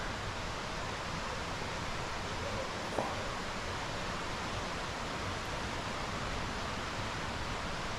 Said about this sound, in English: you can still hear the river, which is just through there